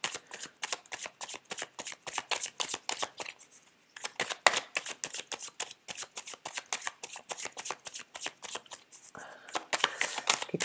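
Tarot de Marseille cards are shuffled by hand in quick riffling bursts, close and crisp, with rapid flicks repeating in runs and short pauses between, and no one speaking.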